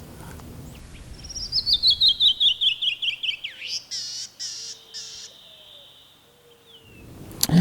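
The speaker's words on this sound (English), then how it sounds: "The bird we're searching for today is the Canyon Wren" A Canyon Wren sings its descending song: a fast cascade of clear whistled notes that slows and drops in pitch over about three seconds, followed by a few buzzy phrases, loud and close against a quiet desert background.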